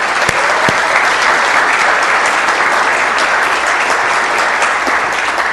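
Audience at a city council meeting breaks into sustained, dense applause that fills the room evenly from start to finish, loud and steady with no talking over it.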